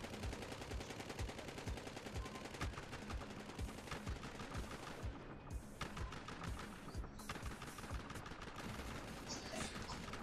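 Near-continuous rapid gunfire in the shooter Battlefield Hardline, dense bursts of automatic weapons crackling over loud background music and noise, with a brief lull midway before the firing resumes.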